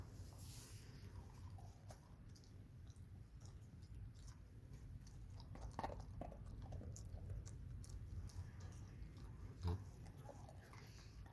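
A dog chews a hard chicken breast slice up close, with quiet intermittent crunching bites and snaps over a low background hum.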